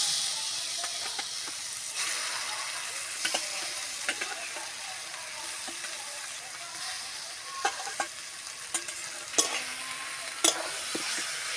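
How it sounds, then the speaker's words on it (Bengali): Mashed green banana being stirred in a wok with fried onion, garlic and chili, giving a soft continuous sizzle with frequent scraping strokes and occasional sharper clicks of the spatula against the wok. "দিয়ে কড়ার মধ্যে একটু নেড়ে নেড়ে নেব"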